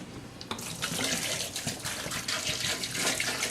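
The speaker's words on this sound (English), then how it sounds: "we're just going to put apple juice and water until it's covered in there" Apple juice and water poured into a brine, a steady close splashing stream of liquid running continuously with slight surges, no speech over it.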